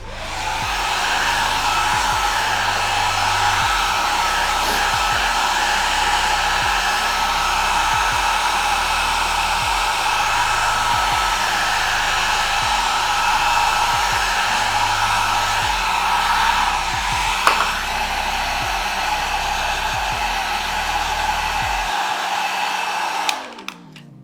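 A heat gun steadily warms chocolate and filling for a chocolate-bar mold, blowing with a loud, constant whooshing drone and low motor hum that runs unbroken until it cuts off at the end.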